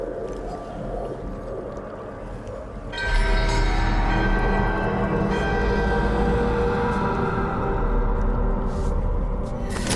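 A ritual bell is woken in Dragon Age: The Veilguard. After a low rumbling bed, a resonant ringing tone swells in about three seconds in and then sustains loudly with layered, shimmering overtones.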